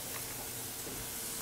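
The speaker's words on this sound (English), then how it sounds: "You'll start to hear it sizzle, start to get real fragrant." Fig leaf halibut cooking in a hot pan gives off a steady, dense sizzling hiss, close and continuous throughout with no speech.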